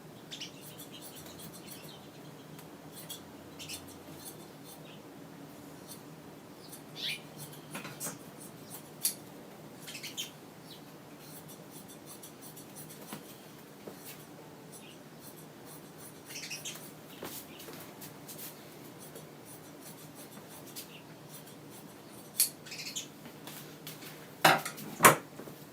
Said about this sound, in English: now I'll get my trusty scissors and I'll just trim this off